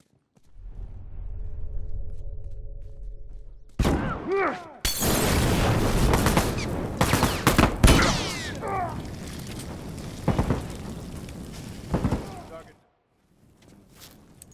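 A grenade blast in The Last of Us Remastered multiplayer bursts in loudly after a low hum, followed by scattered gunshots and booming impacts over several seconds, with a voice calling out amid the din.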